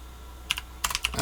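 Keystrokes on a TX75 mechanical keyboard fitted with Ergo Clear Cherry switches: a short burst of several close, crisp clacks with a slightly deep, bassy tone, starting alone and then coming in a quicker cluster.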